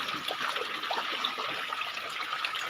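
Steady trickling and dripping of rainwater leaking inside a house into a vessel, a continuous wet patter close by with small splashes scattered through it.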